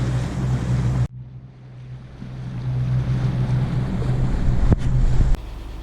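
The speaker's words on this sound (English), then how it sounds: "Heading up the waterway in Bullhead Cove at a higher tide." Steady engine drone of a trawler cruising up a waterway in Bullhead Cove, Alaska, at higher tide, mixed with wind rush on the microphone, a sudden drop after a second, then rising again with a couple of brief knocks.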